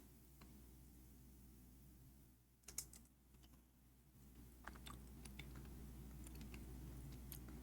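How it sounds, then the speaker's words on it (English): Faint typing on a computer keyboard in a quiet room, with a few scattered key clicks before a brief louder clatter, then a steadier run of soft taps under a constant low hum. "What's wrong with my keyboard?"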